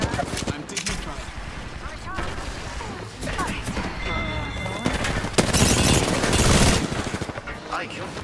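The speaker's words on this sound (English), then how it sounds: "I'm taking fire." Heavy gunfire in Apex Legends: sustained automatic bursts and overlapping shots with a loud crash near the end, dense and close, while a player talks over the fight.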